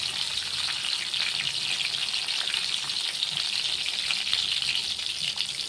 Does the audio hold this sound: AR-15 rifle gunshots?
no